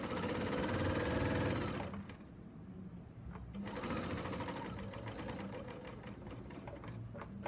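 A serger sews binding onto a quilt with a fast, loud mechanical whir. It pauses briefly partway through, then resumes stitching with a rapid rhythmic clatter up close.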